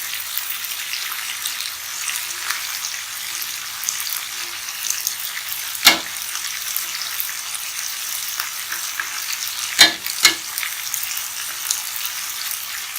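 Fish pieces for Andhra-style fish curry fry over a medium flame with a steady, bright sizzle in the pan, broken by a few sharp utensil clatters.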